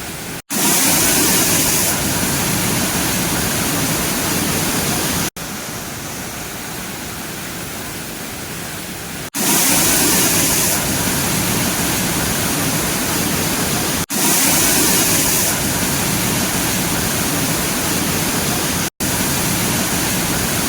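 Meenthulli waterfall runs full after the first rains: a loud, unbroken roar of falling water that cuts abruptly between segments, with no voices.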